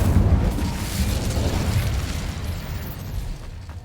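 Incendio fire spell cast in Hogwarts Legacy: a loud, full whooshing burst of flame that holds, then slowly dies away over about four seconds.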